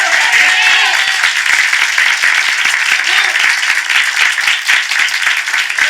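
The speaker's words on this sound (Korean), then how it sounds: "먼저 우리 하나님께 박수로 영광 돌리겠습니다." A church congregation claps during a Sunday morning worship service, sustained dense applause from many hands filling a large room, loud and steady throughout.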